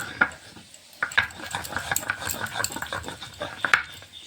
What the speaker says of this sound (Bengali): মাংসের জন্য আদা আর গোটা জিরে বেটে নেব।